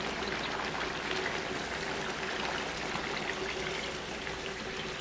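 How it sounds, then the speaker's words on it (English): Water pours steadily into a pot of Thai yellow curry with chicken and potato, a continuous close splashing stream lasting several seconds with no talking. "I'm gonna add some water."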